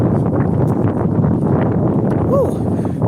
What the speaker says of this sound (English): It's a little windy out here this morning.